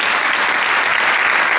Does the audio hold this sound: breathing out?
no